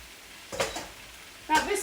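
Noodles for spicy Singapore noodles dropped into a hot pan, two sharp sizzling bursts over a quiet kitchen background with faint utensil clatter.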